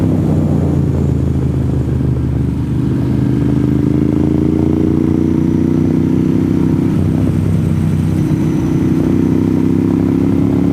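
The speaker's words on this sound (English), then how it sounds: "I am on a Ducati Monster with a worn out chain and sprockets" A Ducati Monster with a worn chain and sprockets rides along Tennessee Route 30 toward Tellico Plains, its engine a loud, steady drone under rising and falling revs over about ten seconds of continuous riding.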